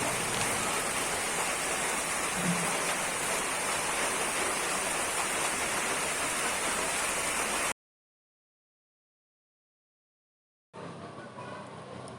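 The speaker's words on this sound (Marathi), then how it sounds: "काही वेळातच पावसाने हजेरी लावली" Constant hiss of steady rain in Hatkhamba village, Ratnagiri, Konkan, dropping to silence partway through before the rainfall noise returns.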